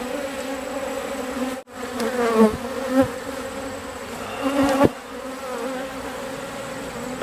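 Honey bees from a swarm buzz close by, a dense insect drone with individual bees sweeping past in rising and falling whines, loud and near without voices.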